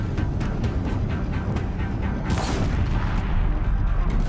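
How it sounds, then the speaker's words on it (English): Deathbringer machines fire heavy weapons in the Horizon Zero Dawn video game. Repeated booming blasts roll out over a dense, continuous battle din, with no talking. "Deathbringers keep firing, this bridge will go."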